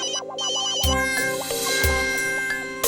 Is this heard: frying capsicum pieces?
no